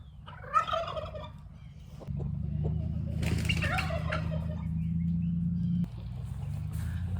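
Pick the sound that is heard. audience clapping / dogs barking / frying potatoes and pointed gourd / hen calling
hen calling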